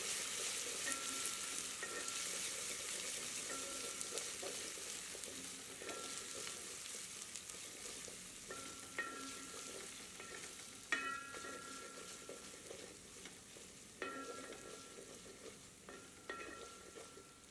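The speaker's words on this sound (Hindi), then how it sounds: "इसे भी प्याज के साथ मिलाकर 2 मिनट भून लेते हैं।" Ginger garlic paste sizzles quietly with onions in a hot pan, with occasional scrapes and taps of a spoon stirring, fairly faint and steady.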